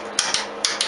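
Paper being punched by an all-in-one punching and binding machine: four sharp, loud clunks in two quick pairs, close up and alone with no talk.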